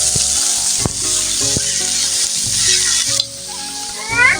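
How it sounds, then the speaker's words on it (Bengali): Greens frying and being stirred in a pan with browned garlic, a steady loud sizzle with intermittent scraping strokes of the spatula, easing slightly toward the end, no talking. "শাকগুলো এখন দিয়ে দিচ্ছি নেড়ে চেড়ে"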